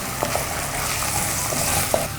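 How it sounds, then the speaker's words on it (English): Diced red pepper and other vegetables sauteing in a hot pan for a beef chili, with a steady sizzle and a few faint stirring clicks, and no talking. "And I'm going to saute the vegetables for about 3 minutes."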